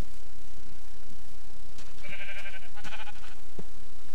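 A Minecraft sheep bleats once or twice in quick succession, close and clear, over steady background noise with a low rumbling layer and no talk.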